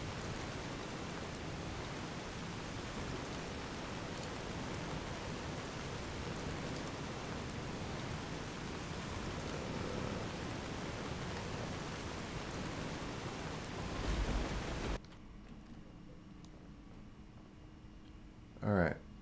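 Rain pours steadily in the video game Fallout New Vegas, a loud, even hiss throughout, then cuts off abruptly near the end, leaving a much quieter backdrop.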